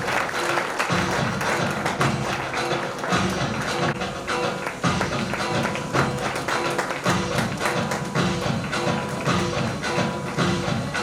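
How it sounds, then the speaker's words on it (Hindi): An audience at an inaugural business session claps in repeated rounds, dense sharp hand claps swelling and easing over several seconds, loud and close. "तालियां भी बजनी चाहिए, साथ तालियों में कमी ना हो।"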